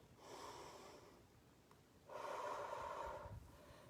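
A person takes a slow, audible breath in through the nose and then a fuller breath, close and quiet, with a short pause between the two.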